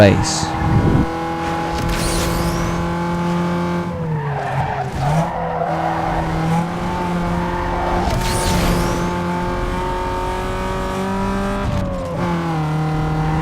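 Peugeot 106 driven in the Need For Speed Underground 2 racing game, a steady engine drone with tire skids and shifting revs throughout, a voice talking over it.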